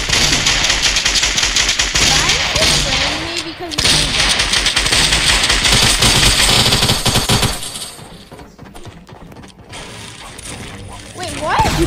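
Constant loud gunfire in a Fortnite Creative capture-the-flag match, rapid weapon sprays and bursts that continue for most of the stretch under excited voices, then thin out toward the end.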